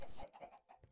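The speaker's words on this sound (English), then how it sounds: "it's a regular chicken" Short, faint clucking from a chicken in Minecraft, a few quick clucks in a brief burst with no talk.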